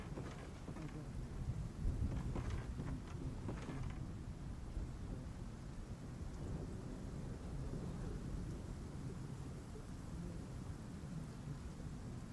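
Steady rain falls in the dark DLC world of Bloodborne, a faint, constant hiss with a few soft rumbling swells early on, thunder-like, under a distant murmur.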